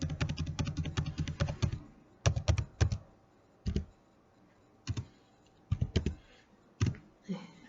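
Keystrokes on a computer keyboard, close and crisp, start with a rapid run of clicks and then come as scattered short bursts and single taps separated by brief quiet gaps.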